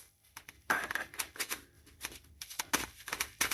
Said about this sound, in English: these are really hard to shuffle, but I won't stop trying